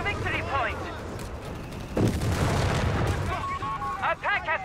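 Gunfire and explosions in Company of Heroes 3, a World War II strategy game, with a heavy boom partway through and crackling shots throughout, under steady commentary.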